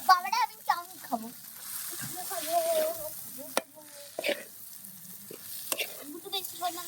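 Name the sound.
stirring chow mein in a frying pan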